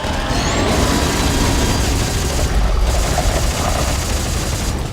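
Sustained gunfire from a Dead Space 3 co-op session, a dense continuous roar of shots lasting the full five seconds, loud and close with no clear pauses.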